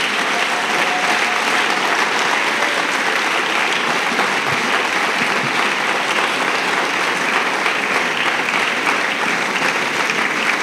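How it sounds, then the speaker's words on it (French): A church congregation claps loudly and steadily for the full stretch, a dense, continuous wash of applause that fills the room, with a few voices faintly audible beneath it. "Acclamez très fort. Clap loudly."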